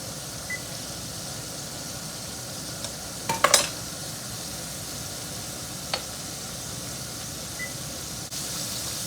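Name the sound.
country fried steak sizzling in grease in a pan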